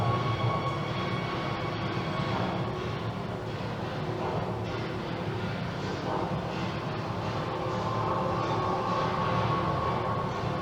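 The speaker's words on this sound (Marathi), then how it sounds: "पूर्ण वेगाने ट्रेन त्या ब्रिजकडे जात आहे." A train running at full speed towards a bridge, a continuous loud rolling rumble with a steady rail hum that holds evenly throughout, with no voices.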